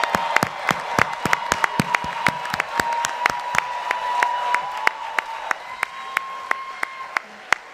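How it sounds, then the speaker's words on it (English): Sustained audience applause at a board of education meeting honoring teachers, with a crowd clapping steadily and several loud, crisp individual claps standing out close by, plus a faint steady tone underneath. "Let's give a big round of applause for the 25 teachers that we just acknowledged"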